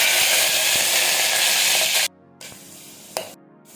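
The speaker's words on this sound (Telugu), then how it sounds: "ఆయిల్ వేడెక్కిన తర్వాత ఇందాక నానబెట్టుకున్న మెంతుల్ని వేసుకోండి" Soaked fenugreek seeds hit hot oil in a pressure cooker with a loud, dense sizzle that cuts off abruptly about halfway, followed by quieter crackling and one brief sharp pop.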